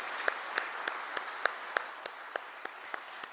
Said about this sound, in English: why don't we start this celebration with a big thunderous round of applause?